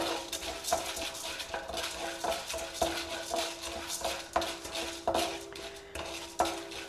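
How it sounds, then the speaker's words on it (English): Spoon repeatedly scraping and clinking against a pot while corn kernels are stirred in butter and oil for popcorn, with regular sharp taps over a low sizzle, close and moderately loud. "Mix everything very well."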